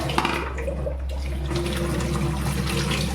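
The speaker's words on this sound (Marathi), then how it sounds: "हा भोपळा याला मी धुवून घेते आता" Steady running water from a tap splashes continuously, with faint handling noises, as a cut pumpkin is rinsed underneath the flow.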